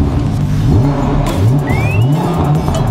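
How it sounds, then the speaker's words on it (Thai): A Lamborghini supercar engine starts and revs in a series of rising, throaty pulls that repeat every half second or so, loud and close, with a brief higher whine partway through. "เหยียบเบรกแล้วก็สตาร์ทเลย"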